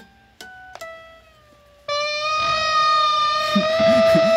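An electric guitar attempts the elephant noise, a sustained wailing, pitch-bending tone that sounds more like a siren, starting with a few short plucked notes before swelling loudly into a steady, rising howl, played alone.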